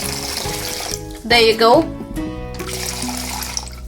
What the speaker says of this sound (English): Then we add some more water to it.